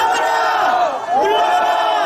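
Protest crowd outside a provincial education office shouting a loud, sustained collective cheer, many voices merged into one roar with a brief dip before surging again.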